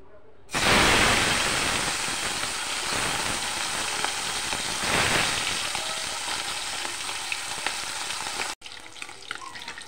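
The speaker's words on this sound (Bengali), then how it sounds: "মাছের টুকরোগুলি একে একে সবগুলি ভেজে নেব" Carp fish pieces frying in hot oil, a loud, dense, continuous crackling sizzle close up that runs steadily for several seconds before cutting off abruptly, no voices.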